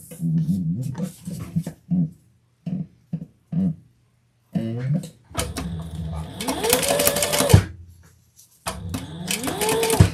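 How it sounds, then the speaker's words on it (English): A sewing machine stitching leather runs in two sustained bursts with rising motor whine, after a stretch of short speech-like sounds and pauses; someone talks nearby before the stitching. "let's sew this on"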